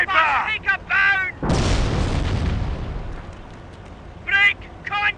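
Gunfire and a heavy explosion from the Company of Heroes: Opposing Fronts battle in Caen, a loud boom with a long rumbling decay between shouted soldier voices at the start and end.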